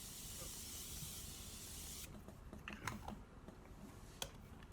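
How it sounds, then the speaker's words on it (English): A steady hiss of Morphe makeup setting spray misted onto a face for about two seconds, then it stops, followed by quiet clicks and small handling noises. "So a final spray to my face"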